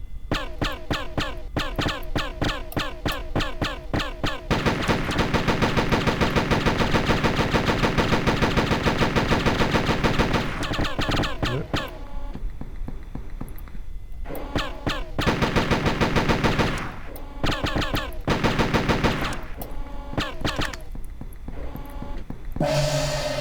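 Rapid, repeated plasma weapon fire in a homemade ray casting game, loud and continuous in long bursts with brief gaps, each shot sharp and mechanical.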